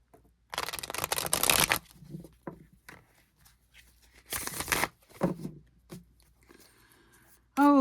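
A deck of astrology reading cards is shuffled in two quick bursts of riffling and flicking, close and crisp, with soft handling sounds between and no talk.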